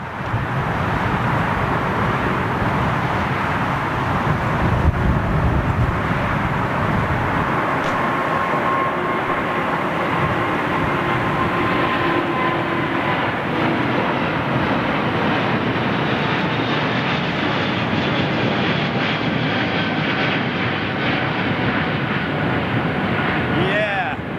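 Aircraft engines at London Heathrow Airport produce a loud, sustained jet roar that rumbles steadily for the whole stretch, broad and slightly shifting in tone as the plane moves.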